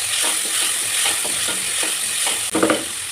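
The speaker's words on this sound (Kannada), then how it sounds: "ಮೆಣಸಿನ್ಕಾಯಿ ಚೆನ್ನಾಗಿ ಹುರ್ಕೊಂಡಾದ್ಮೇಲೆ ಈರುಳ್ಳಿ ಕಂದು ಬಣ್ಣ ಬರೋ ತನಕ ನೀಟಾಗಿ ಹುರ್ಕೊಳ್ಳಿ" Green chilies and onions fry steadily in a pan for a vegetable palya, a continuous close sizzle with a few soft stirring scrapes and a louder stir near the end.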